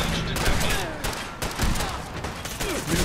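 Bursts of gunfire in Fallout 4 crack and rattle through a dense, noisy battle mix, coming in clustered volleys separated by brief lulls, with occasional voices half-buried beneath the shots.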